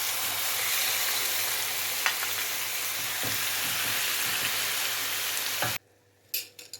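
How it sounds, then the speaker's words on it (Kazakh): Sliced chicken fillet fries in oil in a hot pan, giving a steady, close, even sizzle for almost six seconds before it cuts to near silence with a few faint clatters. "Қызып тұрған табаға май құямыз. Тураған куриный филені салып,"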